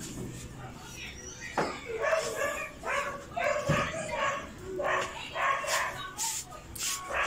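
Dogs bark, yip and whimper intermittently nearby while someone talks over them outdoors, the barks coming in uneven bursts of moderate loudness.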